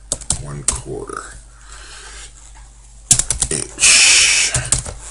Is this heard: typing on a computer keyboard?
yes